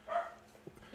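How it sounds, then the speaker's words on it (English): A single faint dog bark sounds from a distance, brief and soft, followed by quiet room noise. "I hear somebody barking."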